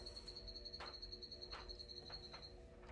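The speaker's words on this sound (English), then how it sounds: "if you guys hear that chirp in the background, those are the dart frogs that I bought my daughter." Pet dart frogs in an indoor terrarium give a faint background chorus, with a steady high trill and a few short chirps repeating every half second or so.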